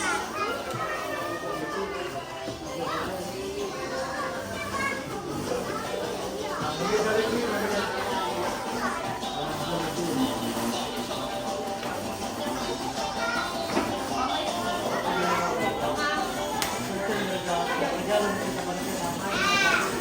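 Kindergarten children playing and chattering at a Jollibee party, a dense, continuous babble of many young voices with shouts and laughter throughout, moderately loud and crowded.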